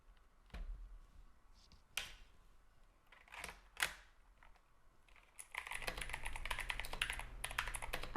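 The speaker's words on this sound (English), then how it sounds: "I chose clicky GX mechanical switches" Keys clack on a Logitech G715 keyboard fitted with clicky GX mechanical switches, starting with a few isolated sharp clicks and then a rapid, continuous run of typing, fairly quiet and close.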